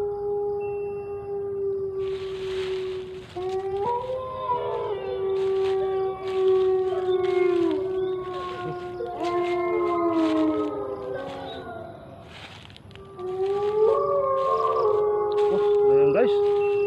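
Dogs in a forest let out long, overlapping howls that rise and waver, several voices layered together and growing stronger as the pack draws nearer, with a brief lull near the middle before the chorus swells again.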